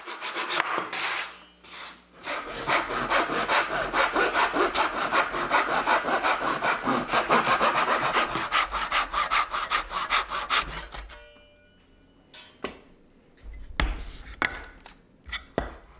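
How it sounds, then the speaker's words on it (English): A hand saw cuts through 3/8-inch-thick walnut and maple boards in fast, steady back-and-forth strokes for about ten seconds, close and loud. A few scattered knocks and scrapes follow after the cut ends. "Step 1 is cutting some lengths from 3/8 inch thick boards"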